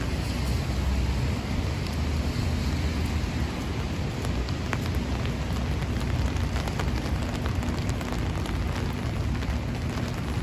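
Heavy rain pouring during a New Year's Day storm in Manhattan, New York City, a loud, steady, dense hiss of drops pattering on surfaces and an umbrella, with some wind, continuous throughout and without talking.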